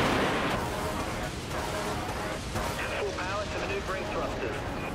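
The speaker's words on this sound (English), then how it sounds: "Let's fire some of those torpedoes." Torpedoes launch from a warship in the naval combat game Dreadnought amid dense, roaring battle noise of rumbling blasts and whooshes, with someone talking over it.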